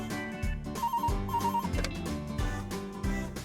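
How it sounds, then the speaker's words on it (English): A work phone rings in a visual novel game, a repeating electronic ringtone trilling in short bursts over a background music track, steady and clear with no voices. "my work phone rang."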